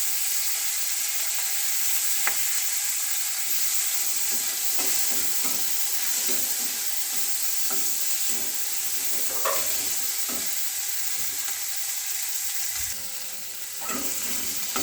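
Green chillies and chopped tomatoes hit hot oil in a pan, giving a steady close sizzle with a few scraping stirs of a spatula, and nobody speaks over it.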